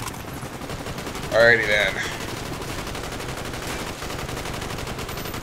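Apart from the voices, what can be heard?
gunfire from enemies in the video game Call of Duty: Black Ops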